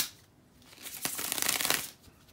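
Tarot cards being shuffled by hand, a burst of dense riffling papery flicks that swells in the middle and fades out, fairly close and alone with no talk.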